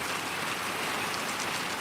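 Dense, steady rain from a deluge in Mountain View, Hawaii hisses evenly without pause, a full wash of drops close by and nothing else heard.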